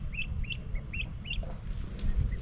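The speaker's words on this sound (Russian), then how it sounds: "Утки, ребята." Ducks at a campground in Japan, a run of short chirpy calls repeated in quick succession and then a few scattered ones, fairly near over low background noise.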